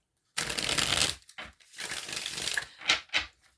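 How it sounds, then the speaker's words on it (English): Tarot cards shuffled by hand in a few brisk riffling bursts, close and crisp, with short pauses between and a couple of quick snaps near the end. "I wanna shuffle the tarot."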